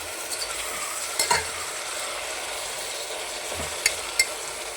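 Prawn biryani ingredients with mint and coriander being stirred together in a pan, heard as a soft continuous scraping and sizzle with a few sharp clinks of a spoon against metal, close and without speech.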